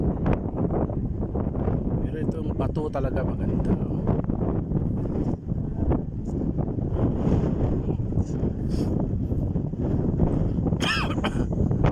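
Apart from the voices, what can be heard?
strong wind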